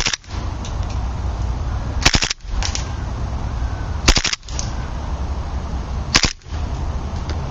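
HFC USP gas airsoft pistol firing BBs on full auto in three short, loud bursts of rapid cracks, each about a third of a second long, spaced roughly two seconds apart over a steady outdoor background.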